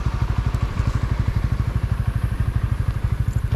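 Honda Winner X motorcycle idling outdoors in Jose Abad Santos, Davao Occidental, a steady rapid low thumping exhaust pulse with light mechanical clatter, close and even throughout with no talk.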